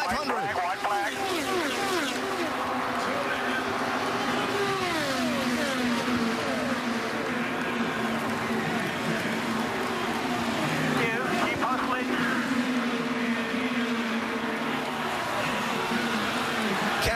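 IndyCar race cars on the final lap of the 101st Indianapolis 500, engines whining and rising in pitch as they pass, heard steadily under a commentator's continuous talk.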